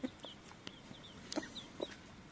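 Hens cluck in short, separate calls while chicks peep softly around them, all close by and fairly quiet, with no talk.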